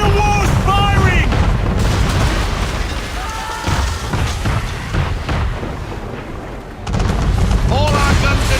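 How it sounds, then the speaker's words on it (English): Man-of-war cannon fire in Assassin's Creed III: deep booming blasts and rumbling explosions rolling continuously at close range, with shouting crew voices over the barrage. "Man of war's firing!"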